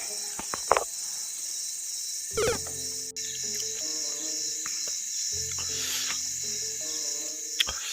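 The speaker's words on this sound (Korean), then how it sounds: "아 똥파리 들어왔네" Blowfly buzzing indoors in a room on an overland motorcycle trip through Nigeria and Cameroon: a steady, thin insect drone runs through the whole stretch, with a few short clicks and knocks and a tonal hum layered beneath.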